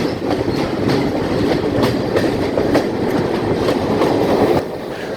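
A train rolls into Nanu Oya railway station near Nuwara Eliya, its wheels clattering in a loud, steady rhythm of rail joints close by, with the rumble easing slightly just before the end.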